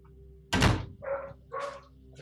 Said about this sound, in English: Also, Dan, you don't mind closing the door?